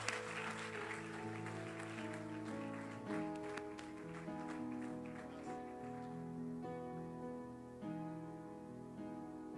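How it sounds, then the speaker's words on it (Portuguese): Congregation applauding in a Brazilian church service, a faint patter of clapping underneath loud sustained music with held keyboard or organ chords. "dá uma salva de palmas ao Senhor"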